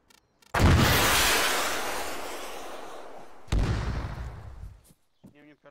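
Gunfire and artillery in an ArmA 3 co-op battle: a loud blast rolls into a long decaying rumble, then a second heavy boom follows and fades, with brief faint sounds before and after.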